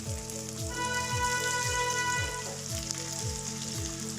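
Poha fingers fry in hot oil with a soft, constant sizzle, heard beneath a louder rhythmic tune with repeating tones.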